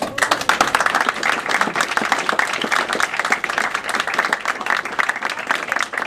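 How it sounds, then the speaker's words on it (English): An audience at a convention panel breaks into applause, a crisp, dense clatter of many hands that holds steady for several seconds, with a few voices faintly mixed in. "which I think is worthy in itself of a round of applause again"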